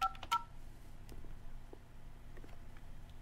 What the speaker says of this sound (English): Okay, so just dialing the number